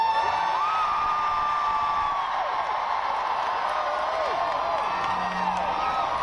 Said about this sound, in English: Can I actually get everyone to just scream really loud one more time?